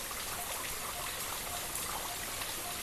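Water from a waterfall near Amrabad pouring down in a steady, even rush of splashing, moderately faint and unbroken throughout.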